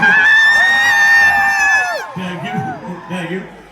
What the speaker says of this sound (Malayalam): എനിക്ക് കയ്യടി വേണ്ട, അതിനൊരു കൂവല് തരണേ